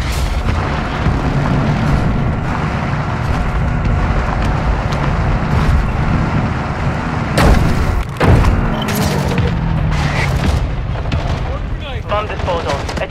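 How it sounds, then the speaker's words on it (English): Mortar strike explosions in the video game Call of Duty Warzone, a dense barrage of loud booms rumbling continuously amid game noise, with sharp blasts near the middle. "Our mortar strike is inbound."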